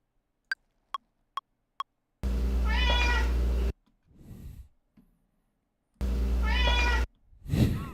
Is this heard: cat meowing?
yes